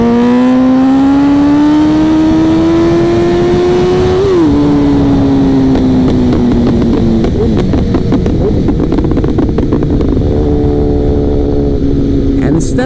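Liter bike motorcycle close by, revving up through a second gear wheelie: a rising engine whine, a quick gear change, then rough throttle roar and wind as the bike pulls away.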